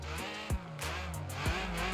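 A Porsche sports car engine in the racing game BeamNG.drive revs in quick bursts with sharp rising and falling pitch sweeps, fairly faint.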